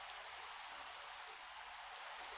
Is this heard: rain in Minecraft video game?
yes